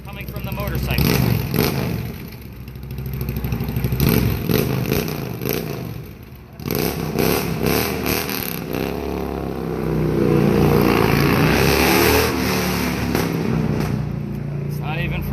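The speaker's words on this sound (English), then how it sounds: "is it coming from the motorcycle?" A loud, close motorcycle engine runs steadily, its rumbling roar rising and falling as it revs. The engine briefly drops off, then picks back up and keeps going, with indistinct voices mixed in.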